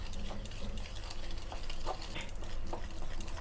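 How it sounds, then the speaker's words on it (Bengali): A spoon stirs three spoonfuls of sugar into fifty grams of sour curd for a malai cake batter, giving a steady, close scraping and swishing that runs through the whole moment. "পুরো করা রাখা চিনি দিয়ে দিচ্ছি তিন চামচ এরপর পঞ্চাশ গ্রাম টক দিয়ে দিয়ে দিচ্ছি ভালো করে একটা মিশ্রণটা গুলে নেবো"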